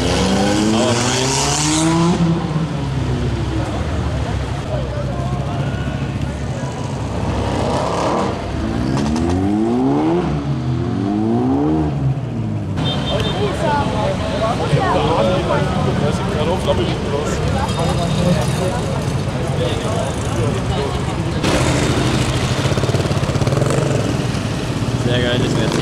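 A Mercedes turbo passes at a supercar meet in Munich, engine roar rising and falling with revving sweeps as cars go by. People talk throughout amid busy traffic noise.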